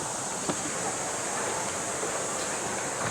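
Steady broadband rush of a flowing river near a waterfall, continuous and fairly close, with no clear voices over it.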